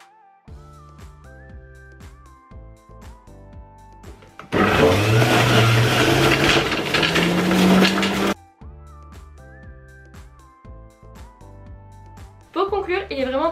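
A SINBONO juicer motor runs at first speed, a loud steady whirring burst lasting about four seconds, set between stretches of background music.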